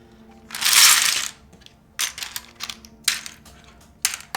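Keys clacking on a freshly built Kyubi mechanical keyboard, a long run of blended strokes followed by several short separate bursts of crisp typing, close and clear with no talking.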